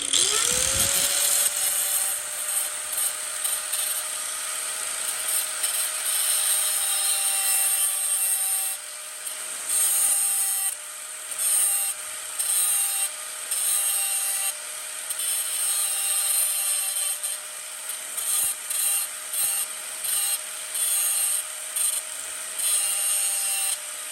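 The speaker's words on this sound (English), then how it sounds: "pull out the grinder." A power grinder runs steadily with a high whine as it cuts into a car shifter cable part for an AWD CRV, its pitch dipping and recovering as the disc bites the metal in repeated passes.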